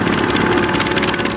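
A Lucas Oil Pitts aerobatic biplane's engine drones steadily in flight, a loud, continuous propeller roar with no pauses and no voices.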